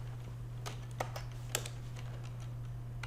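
Typing on a computer keyboard: quiet, irregular key clicks at a steady working pace over a faint constant hum, with a couple of slightly louder taps.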